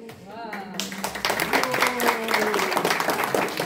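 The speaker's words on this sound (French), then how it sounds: "C'est pas parce que vous applaudissez que vous aurez un puzzle." An audience at a family church gathering breaks into a burst of clapping that swells and continues under someone speaking.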